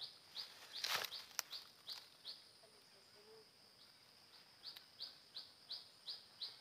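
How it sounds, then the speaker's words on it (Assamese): Small birds chirp in a forest in short, repeated bright notes, soft and slightly distant, over a quiet background with faint insect buzz. "অকল চৰাই চিৰিকটিৰ মাতহে ইয়াত শুনিবলৈ পোৱা যায়"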